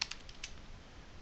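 A few soft key presses on a computer keyboard while entering commands, light quick taps close by in an otherwise quiet room, fading after the first half second.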